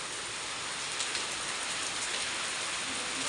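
Steady heavy rain pours down, a dense even hiss of drops striking surfaces all around, with no pauses.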